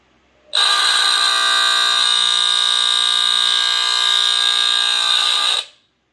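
A NuTone Scovill S-181-L smoke alarm blares one continuous, piercing high-pitched tone for about five seconds, loud and close, then cuts off abruptly.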